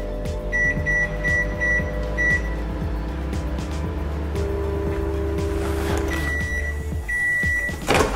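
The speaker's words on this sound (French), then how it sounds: "je vais le mettre au micro-ondes à pleine puissance pendant 3 minutes" A kitchen microwave oven runs at full power with a steady low hum and fan drone, while a pattern of short electronic beeps repeats near the start and again near the end.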